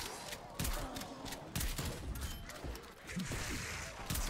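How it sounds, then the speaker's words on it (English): Shotgun blasts in a zombie video game, several loud booming shots fired in quick succession over dense, continuous background game noise. "This is a nice shotgun."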